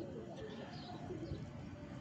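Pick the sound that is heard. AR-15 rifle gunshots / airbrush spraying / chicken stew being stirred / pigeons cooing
pigeons cooing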